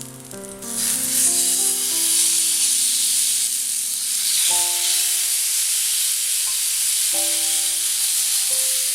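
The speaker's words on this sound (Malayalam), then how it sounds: "ഇനി ഇതിലേക്ക് നമ്മൾ പുരട്ടി വെച്ചിരിക്കുന്ന ചിക്കൻ പീസസ് ഇട്ട് കൊടുക്കാം." Marinated chicken pieces for tandoori chicken sizzle in olive oil on a dosa tawa, a steady close hiss and crackle running throughout with no talk.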